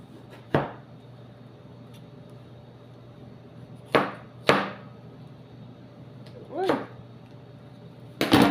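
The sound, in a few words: cutting watermelon rind with a knife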